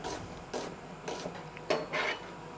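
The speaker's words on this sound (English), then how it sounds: "So let's just chop this up." Onions are chopped on a cutting board as four or five short, dry slicing and scraping strokes about half a second apart, close and quiet with no speech.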